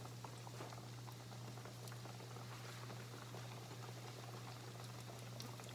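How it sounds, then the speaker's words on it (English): Apple pie frying in hot oil over a fire, a faint steady bubbling sizzle with a low constant hum underneath and no talk. "Time to fry it up."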